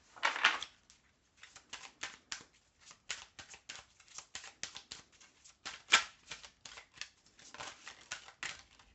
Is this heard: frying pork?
no